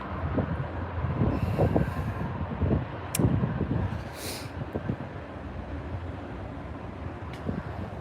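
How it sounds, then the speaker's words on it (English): A slow-moving train rolls past as a steady, loud rumble with rhythmic clacks of wheels on rail joints, mixed with wind buffeting the microphone. "It's a pretty slow going train."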